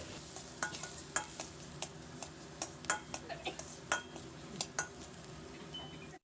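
A spoon of red chilli powder being stirred into pav bhaji curry in a pan, with soft scraping strokes and scattered light clinks of spoon against metal over a faint steady sizzle, close by.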